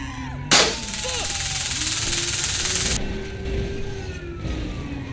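Rapid gunfire bursts in a GTA-style roleplay driving game, sharp and loud at onset then sustained under vehicle engine noise, with a voice talking over the action.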